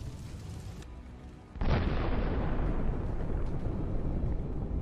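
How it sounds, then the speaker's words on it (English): Charges on a UR-77 mine-clearing vehicle detonate after a drone strike. A sudden powerful blast cuts in and leaves a loud, sustained rumbling roar that fills the rest of the clip. "This becomes the cause of such a powerful explosion."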